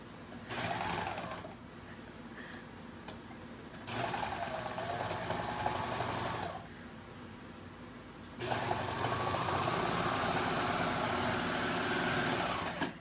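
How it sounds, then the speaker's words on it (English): A serger sewing machine stitches a windowpane quilt block in steady loud whirring runs, pausing briefly between seams and starting up again, with no talking over it. "And now I'll just sew this."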